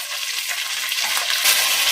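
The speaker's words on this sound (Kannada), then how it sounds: "ಈರುಳ್ಳಿ ಚೆನ್ನಾಗಿ ಫ್ರೈ ಆದ್ಮೇಲೆ ಈಗ ಬಿಡಿಸಿಟ್ಕೊಂಡಿರ್ತಕ್ಕಂಥ ಅವರೆಕಾಯಿನ ಸೇರಿಸ್ಕೊಳ್ಳೋಣ" Field beans dropped into onions frying in a pan, giving a steady bright sizzle that holds at an even level for a couple of seconds with no voices.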